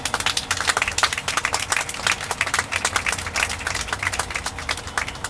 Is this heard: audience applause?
yes